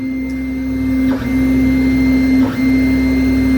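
A Method 3D printer running with a 4mm stainless nozzle, a loud steady motor hum with two brief dips, near and alone with no talking.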